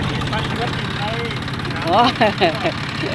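A farm tilling vehicle plowing soil in a chili garden runs with a steady, close engine rumble throughout, while a voice speaks over it near the end.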